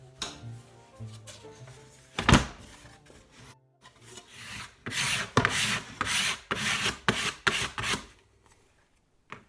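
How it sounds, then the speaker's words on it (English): Scraper dragging across laminated guitar wood to clear glue residue during a parlor guitar build, with a sharp knock then a run of rhythmic rasping strokes, close and steady with no speech. "Here I'm scraping glue residue so it doesn't plug my thickness sander."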